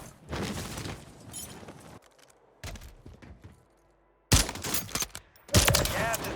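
Bursts of rapid gunfire in the Warzone video game, several loud volleys separated by quieter gaps, with a voice talking over the action.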